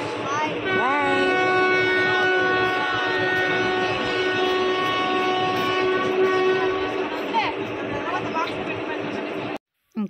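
A train at a railway station sounds a long, loud horn, sustained for several seconds with a rumbling rail background, before the sound cuts off abruptly.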